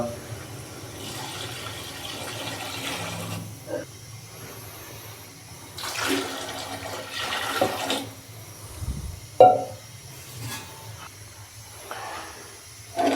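Water pours and splashes in bursts into a cooking pot for pulao, about 2.5 liters, rushing and gurgling with pauses between pours, close by and without speech.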